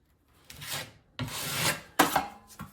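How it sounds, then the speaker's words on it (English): A putty knife scrapes drywall compound into a gap along a tub edge in three or four short rasping strokes separated by brief pauses, close and fairly loud with no voice over it. "Just pushing that compound in with my knife."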